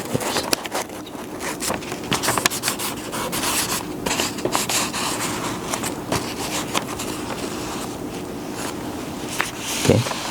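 Paper rubbed by hand over an inked fish for a traditional fish print, giving a steady, close, scratchy rubbing texture with repeated strokes and a brief louder scrape near the end.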